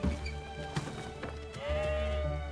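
Sheep bleating from a flock, with a ram among them, several wavering calls overlapping at moderate distance, with one longer bleat rising toward the end.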